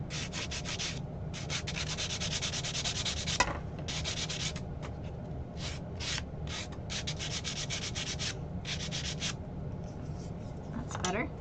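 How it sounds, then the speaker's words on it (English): An electric sander smooths a small ridge on a surface in repeated bursts of gritty, rasping buzz separated by brief pauses, fairly close and steady, with a couple of faint clicks near the start and end. "I'm going to take my sander. Sorry, I had to get up again. And I'm just going to sand that a little smooth."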